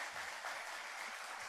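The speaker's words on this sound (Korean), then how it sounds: "박수 한번 칩시다" Congregation clapping during a church service, a dense, steady wash of many hands heard briefly and at even volume with no voices.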